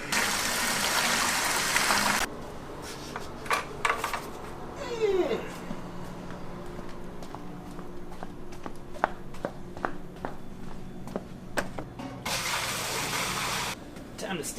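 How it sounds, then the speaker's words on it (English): Cold water pours into a beer mash from a tap or hose, a steady hissing rush at the start and again near the end, with quieter clinks and handling sounds between. "I should probably put water in there."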